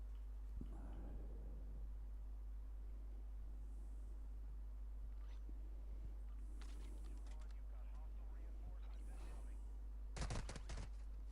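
Bursts of video game gunfire crackle in short clusters, the densest near the end, over a low steady hum with people talking in between.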